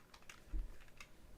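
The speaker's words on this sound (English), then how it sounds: "Hey, get off my keyboard!" Soft, scattered key clacks come from a computer keyboard as a cat walks across it, a few irregular taps and one dull thump, quiet and close.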